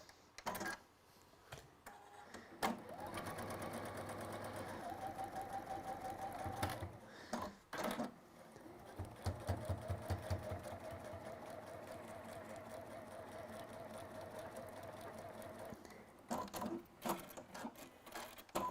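A sewing machine runs in close-up with fast, even mechanical whirring in several bursts separated by short pauses and handling clicks.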